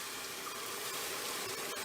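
Grand Marnier liqueur poured from a bottle into a pan for crepes Suzette, a steady close liquid pour with a faint trickling hiss that runs unbroken for about two seconds.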